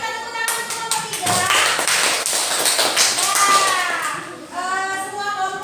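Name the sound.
applause for group 3 in a classroom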